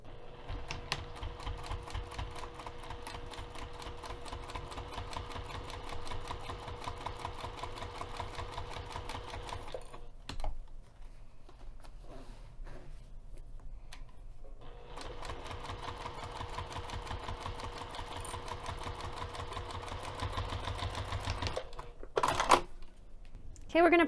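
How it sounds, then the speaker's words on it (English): A sewing machine with a zipper foot stitches a quilted pouch panel in fast, steady mechanical bursts. It pauses midway with a few clicks, then runs again before stopping. "I'm going to start sewing here where the tab starts and stop sewing over here"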